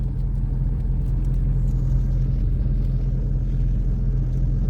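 A car driven slowly by a learner during a driving lesson, with a steady low engine rumble and road noise continuing evenly throughout, close and fairly loud, no talking.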